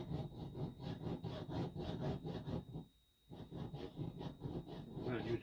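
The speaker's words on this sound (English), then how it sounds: "you have a little bit more control when you're using a hacksaw than you would if you're using that grinder" A hacksaw cuts through copper inside a magnetron, with steady back-and-forth rasping strokes close up, broken by a brief pause before the sawing resumes.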